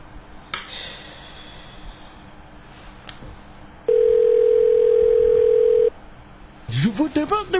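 A telephone call goes through on a handset, with a steady two-second tone after some faint background noise, followed by a recorded voice starting to speak.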